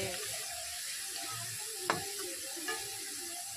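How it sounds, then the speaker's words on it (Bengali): Shredded potatoes deep-frying in oil make a soft, continuous bubbling sizzle, fairly faint and even, with one sharp click partway through and a lighter tap after it, no voices. "যখনই দেখবে আলুটা ভাজতে ভাজতে এরকম বুদবুদি কমে গিয়েছে, তখন বুঝবে যে আলুটা ভাজা কিন্তু প্রায় হয়ে গেছে।"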